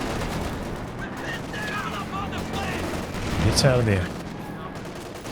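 Machine gun fire in Company of Heroes 2, a Wehrmacht versus US 1v1 match, crackling bursts of gunfire under continuous commentary, swelling louder in a dense rattle near the middle before easing off.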